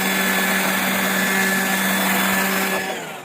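An electric blower whines steadily on a construction site where aerated concrete blocks are being laid for a garden house, loud and continuous with a high tonal hum, then spinning down at the end.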